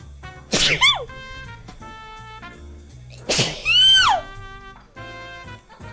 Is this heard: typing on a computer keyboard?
no